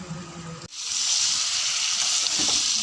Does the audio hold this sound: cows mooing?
no